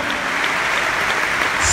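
A church congregation in a theater in Tucumán, Argentina claps together in a steady, dense roar of hands, loud and continuous with no voices on top.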